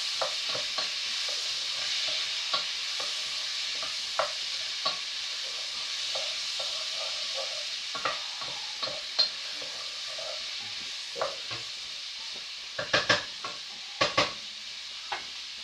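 A Mediterranean stew is stirred in a pot over a steady background sizzle, with a utensil scraping and knocking against the pot in irregular bursts, growing busier toward the end; no talking.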